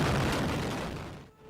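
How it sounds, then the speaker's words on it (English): Cluster bomb strikes ripping down a street in a second wave, heard as a dense, continuous roar of many overlapping small blasts and crackling bursts, loud and sustained before thinning out near the end. "several cluster bomb strikes rips down the street. Here's the second wave."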